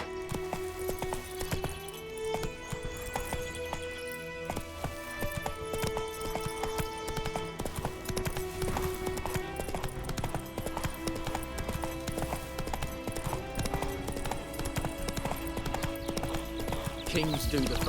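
Hooves of Roach, the horse in the Witcher 3 video game, clip-clop in a steady, continuous rhythm under game voices and background sound.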